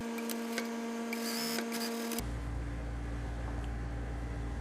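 A sewing machine hums and stitches the shoulder seam of a cropped balloon-sleeve blouse, a steady mechanical whir that shifts to a lower, denser drone partway through, with no talking.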